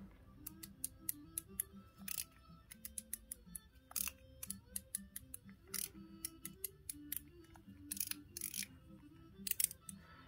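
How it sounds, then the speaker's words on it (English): Sharp, crisp mechanical clicks from a Mechanical Cashew Nut slider fidget toy, heard close up as individual detents, some isolated and some in quick bursts, against a quiet background. "I like to slow it down and feel those individual clicks"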